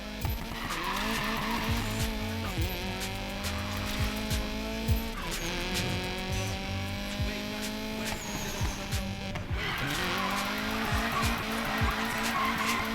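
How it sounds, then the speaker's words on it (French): Car drifting in the racing game Need for Speed Payback, a high revving engine shifting gears under long, wavering tire squeals and skids, loud and continuous with game music beneath. "Prolonge ce drift, Mac."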